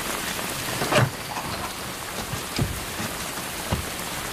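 Steady rain pours down during a storm, with thunder rumbling through it and several low, muffled booms spaced a second or more apart, and no voices.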